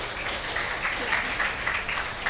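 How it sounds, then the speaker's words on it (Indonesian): An audience at a special film screening event applauds steadily, a dense wash of many hands clapping at moderate distance for a couple of seconds. "boleh tepuk tangan untuk Fahri."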